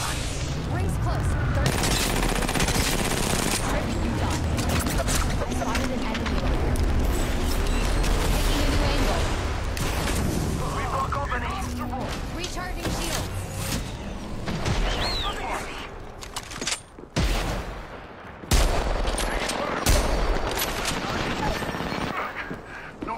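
Dense video game gunfire in a battle royale shootout, rapid overlapping shots and bursts nearly nonstop at close range, with brief dips near the end, while players talk over it.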